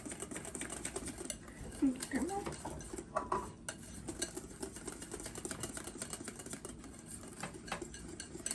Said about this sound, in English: Now you want to make sure that you mix this really well and get all the lumps out.